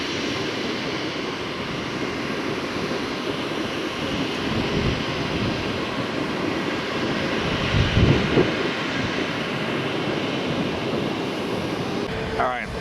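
A Southwest airliner powers up for takeoff from runway 1 right at Tampa, a broad steady engine roar heard from a distance that swells slightly midway, with faint voices under it.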